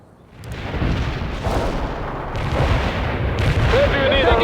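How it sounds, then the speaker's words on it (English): Artillery barrage striking in the Soviet assault mission of the strategy game World in Conflict, booming impacts and rumbling blasts rolling together, with a radio-style voice cutting in briefly near the end. "Barrage hit for full effect"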